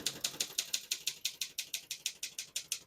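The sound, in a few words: typing on a 1957 Optima Elite portable typewriter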